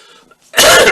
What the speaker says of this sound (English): Sorry about the cough, but I have a chest infection and it makes me cough quite a lot